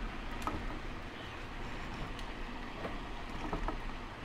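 Metal shaper machining a cylinder head in a shop, giving a steady mechanical rumble with faint repeated ticks and scrapes from the cutting strokes, no talking.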